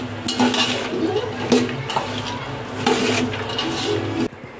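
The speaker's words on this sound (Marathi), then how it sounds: "आता ह्या सर्व भाज्या मस्त अशा मिक्स करून घेऊ." Mixed vegetables with chickpeas and peas stirred together in a pan, a steady scraping and clinking of utensil against metal with repeated strokes, close and moderately loud, with no talking.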